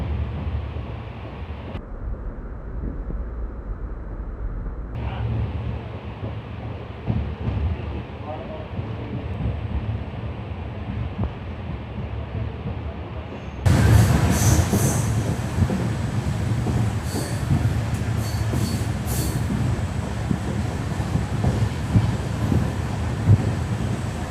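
Steady rumble and clatter of the Jhalawar City - Shri Ganganagar express heard from inside a coach, with rolling wheel noise and rattling throughout that turns louder and brighter partway through, as if a door or window opened.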